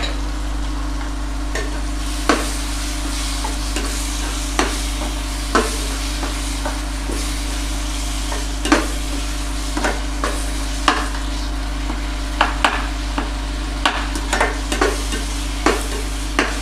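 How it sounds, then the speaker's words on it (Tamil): Ginger garlic paste frying with softened tomatoes in a pan for chicken curry, a steady close sizzle with scattered sharp clicks and scrapes of a spoon stirring, no talking. "இந்த டைமில் வந்து இஞ்சி பூண்டு பேஸ்ட் சேர்த்துக்கிறேன்."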